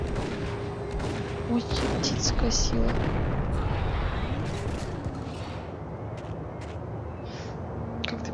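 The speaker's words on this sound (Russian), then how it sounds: "У меня рефлексы чисто на звуки выстрелов уже." Continuous gunfire and booming blasts from the video game Max Payne. The rattling shots and heavy reports pile up into a dense, sustained barrage, and someone talks briefly over them.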